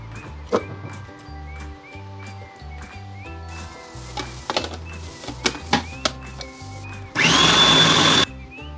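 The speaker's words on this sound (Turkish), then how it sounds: "Biberlerimizi, patlıcanlarımızı robottan geçirelim." A food processor chops peppers and eggplants for a spicy winter hot sauce, kicking in as a single loud, harsh whirring burst of about a second near the end, after scattered kitchen taps and clatter.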